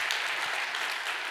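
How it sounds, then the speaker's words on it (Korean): Steady applause from a church congregation for a children's special song at a Sunday service, dense and continuous clapping throughout. "내려갔지만 박수 쳐줘도 괜찮을 것 같아요"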